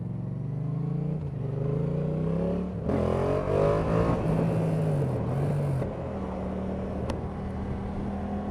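A motorcycle engine revs up close by at a spot for practicing wheelies, idling low before a sharp rise in pitch that swells and falls, then settles back to a steady idle.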